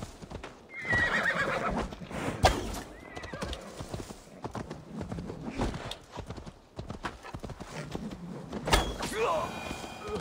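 A horse in the video game Assassin's Creed Valhalla whinnies loudly early on and again near the end, with clip-clopping hooves and shuffling movement throughout and a voice talking over it.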